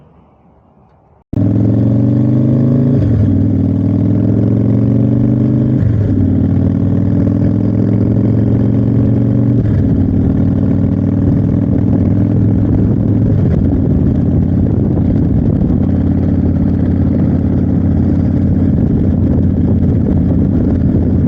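A 2009 Harley-Davidson Screamin Eagle CVO Softail Springer motorcycle fires up after a quiet moment, then its engine pulls away and rises through several gear changes while riding, a loud, steady close rumble that continues on without talking.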